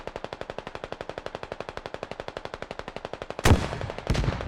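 Rapid machine-gun fire in a desert tank battle video game with T-72s and BMPs, a long even burst of evenly spaced shots, followed by two loud, close explosive blasts.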